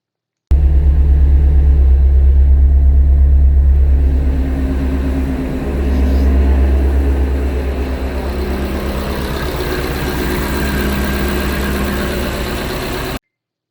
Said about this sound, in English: here's what the car sounded like when we went ahead and started it back up with the serpentine belt off